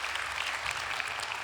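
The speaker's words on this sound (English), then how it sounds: "Let's hear a big round of applause." Steady applause from an audience at a startup pitch event, many hands clapping densely and evenly throughout, loud and close with no talk over it.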